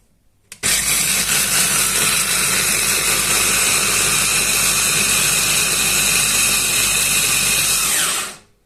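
A small electric chopper motor whirs loudly and steadily on first speed for several seconds, grinding peanuts with a gritty texture, then abruptly winds down and stops.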